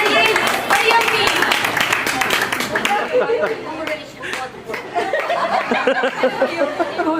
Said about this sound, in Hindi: उनको बहुत सारी तालियों में आप लोग बुलाइए बड़ी अम्मी।